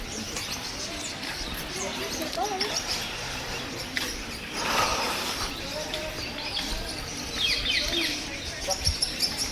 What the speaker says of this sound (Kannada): ಇಲ್ಲಿ ಪಕ್ಷಿಗಳ ಕಲರವ ಕೇಳ್ತಾ ಇದೆ